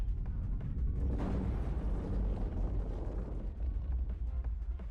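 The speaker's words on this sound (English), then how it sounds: "Then you see an explosion" A rumbling explosion in MotorStorm: Apocalypse swells into a dense, low boom that stays heavy and churning for several seconds amid game noise, with no voices.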